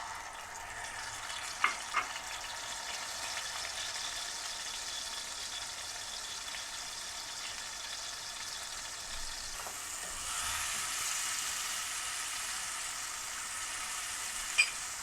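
Onions and tomatoes fry in a pan for Hyderabadi baingan, a steady close sizzle with a few sharp clinks of a utensil and a slight swell in the hiss near the end, no talking.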